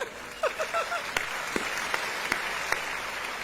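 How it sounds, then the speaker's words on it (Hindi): Audience applause at a Hindi poetry gathering, a steady dense wash of clapping that runs the whole time, with a few brief voices and shouts near the start. "पीछे तालियां जरा अच्छी बज जाए, क्योंकि आज कुमार भाई आए हैं"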